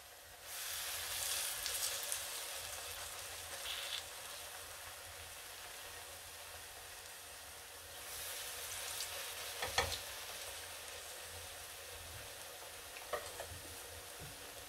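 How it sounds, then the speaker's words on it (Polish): Steady crackling sizzle of potato pancakes frying in hot oil, fairly quiet and continuous, with a few scraping clinks now and then. "I smażymy je kilka minutek do zrumienienia się brzegów."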